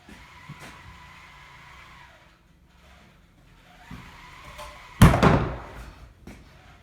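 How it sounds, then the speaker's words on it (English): Quiet room noise, then a sudden loud wooden crash as a wooden staircase newel post topples over, followed by a short rattling decay. "That was one of my newel posts I just knocked down."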